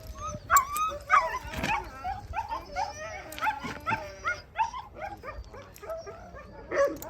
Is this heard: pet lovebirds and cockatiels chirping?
no